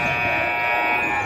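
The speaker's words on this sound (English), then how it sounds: "That was a loud buzzer, and it's better that it be too loud than not loud enough." A loud, steady electronic buzzer sounds continuously at a volleyball game, its harsh tone holding at an even level for the whole moment with no break.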